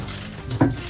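A ratchet backing out the stock threaded bushing on a Harley engine, a single close mechanical click and clunk over quiet shop background.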